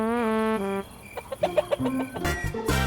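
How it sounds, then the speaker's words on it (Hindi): Chickens cluck and squawk in a series of short, excited calls, with a louder burst of fowl noise near the end. "शेरू सोनू के घर चोरी करने जाता है और मुर्गियों को पकड़ने लगता है"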